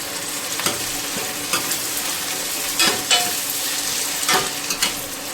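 Browned onions and chopped tomatoes frying in a pan for a Punjabi-style kofta curry, a steady loud sizzle broken by scraping stirs.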